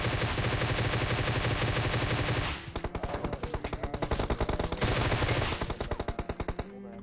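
Loud bursts of automatic gunfire in PUBG Mobile, with fast, heavy shots running almost continuously and shifting between steadier rattles and sharper, spaced volleys, all close and with no talking.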